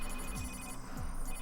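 A phone rings in an anime episode, a bright repeating electronic ringtone with a steady pulsing pattern, moderately loud over a faint low background.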